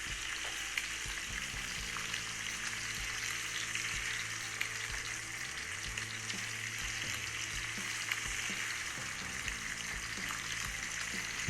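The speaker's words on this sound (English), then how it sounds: "Anytime you're doing the proper smash burger, you want to hold it for at least 10 seconds. You want good griddle contact," A smash burger patty sears on a Halo Elite4b griddle, giving a loud, continuous close-up sizzle over a low, shifting hum.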